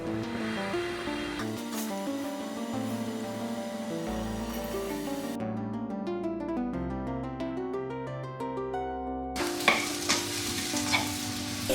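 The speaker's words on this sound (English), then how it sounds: "I'm going to throw it in the frying pan with some olive oil, and I'm going to put it at a low heat to start cooking" Sliced peppers and onions fry in olive oil in a pan over low heat, a soft continuous sizzle with occasional stirring, largely masked by background music playing over it.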